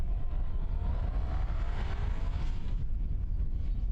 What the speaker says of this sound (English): Boeing 787 Dreamliner, Air New Zealand. Lining up, runway 20.